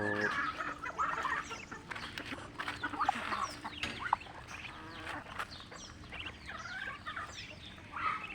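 Chickens, ducks, ducklings and chicks cluck, quack and peep continuously in a busy, overlapping chorus, close by, with sharp calls scattered throughout.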